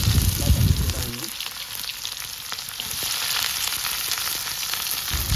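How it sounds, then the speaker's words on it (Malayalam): Chopped onions hit hot oil in a pan and sizzle steadily and close, preceded briefly by a voice, with the crackling hiss holding evenly to the end. "എണ്ണ ചൂടായി വന്നിട്ടുണ്ട് അപ്പോൾ നമുക്ക് അതിലേക്ക് നമ്മൾ അരിഞ്ഞിട്ട് ഉള്ളിടാം"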